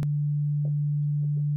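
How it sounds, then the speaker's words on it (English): A steady pure sine tone from the Malstrom synthesizer's oscillator holds at one pitch throughout, clean and constant, with faint soft clicks beneath it. "Here I have selected by default a sine wave."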